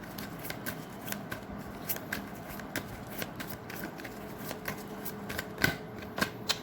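Tarot cards being shuffled by hand in a quiet room, a steady run of soft papery riffles and flicks with a few sharper snaps near the end, close and alone with no talking.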